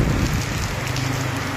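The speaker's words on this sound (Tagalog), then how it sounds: "Sobrang lakas ng hangin mga kalingap, lakas ng ulan." Heavy rain pours down steadily with strong gusting wind, a dense continuous roar close to the microphone during a storm at a vendors' market area.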